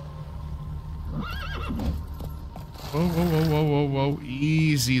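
Roach, a horse in the Witcher 3 video game, gives a couple of whinnies separated by a pause, with faint hoof clops underneath and no talking.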